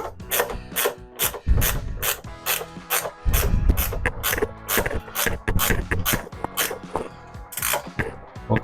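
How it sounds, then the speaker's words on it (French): A 10 mm wrench ratchet tightens the bolts of an RV toilet, giving loud, close bursts of rapid clicking in uneven runs with short pauses between strokes. "avec une clé de plus petite dimension, la 10 mm. On vient serrer"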